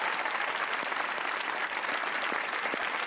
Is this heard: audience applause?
yes